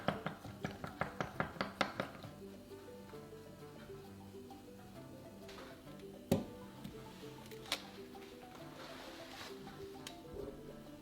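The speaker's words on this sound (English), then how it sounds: "and whisk." A whisk beats honey glaze, or maltose with hot water, in a bowl with a quick run of about eight sharp clinks, then a few scattered taps over quiet background.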